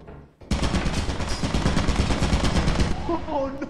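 A turret in Lethal Company opens fire in sudden loud, rapid automatic bursts. The fire runs continuously for about three seconds, then cuts off as voices briefly react.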